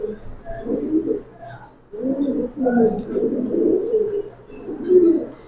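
Pigeons in a loft, close, clear rounded cooing in repeated rolling phrases with short pauses between them, fairly loud against a quiet background.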